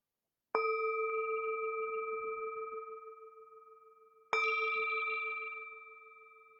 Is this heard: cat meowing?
no